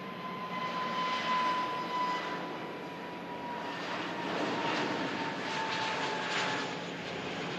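A jet airliner rolling and lifting off at an airport, its steady broadband engine roar holding at a distance with a slight swell, no voices over it.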